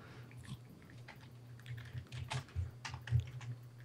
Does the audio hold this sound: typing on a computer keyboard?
yes